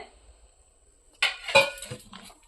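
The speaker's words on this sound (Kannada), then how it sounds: "ಈಗ ನಾವು ಸರ್ವಿಂಗ್ ಬೌಲ್ಗೆ ತೆಕ್ಕೊಳ್ಳೋಣ" Rava and sago pongal is moved into a serving bowl, giving a few close clinks and scrapes of a spoon against a vessel after a quiet start, with no talk.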